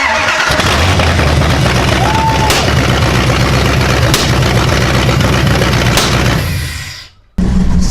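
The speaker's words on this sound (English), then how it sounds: "Here we go, first start" A swapped 5.9-liter V8 in a Dodge Dakota cranks and fires on its first start, then settles into a loud, steady idle before cutting out abruptly near the end and catching again.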